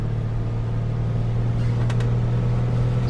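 A light aircraft engine in a flight simulator runs at full throttle with prop and mixture full, giving a steady, loud, unbroken droning hum with no talk over it.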